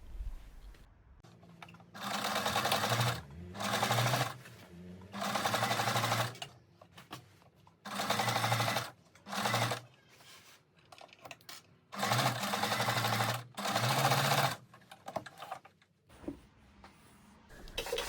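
A sewing machine stitching the crotch seams of pants, running in repeated bursts of a few seconds each with short pauses between, a close, steady mechanical whirring hum without talking.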